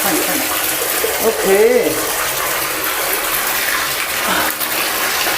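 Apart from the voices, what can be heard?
water running while bathing a dog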